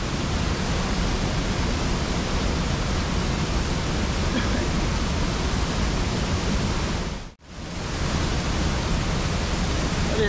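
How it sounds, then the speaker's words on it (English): Cataract Falls pours in a steady, loud, broadband roar of falling water, constant and close, with a brief dip in level near the end before the rushing resumes. "it's a lot better when you're fishing under a waterfall"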